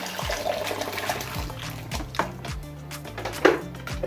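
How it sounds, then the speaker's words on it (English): Hot water is poured over rice to wash it, a steady splashing, trickling stream close by with a few louder sloshes and clunks, no voices. "I have to pour the hot water already prepared. Wash my rice."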